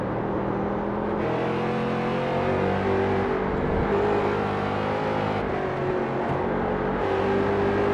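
Race cars lapping the Summit Point circuit in an amateur racing series, with loud continuous engine drone and revving, cars passing by as pitch rises and falls, and no talk.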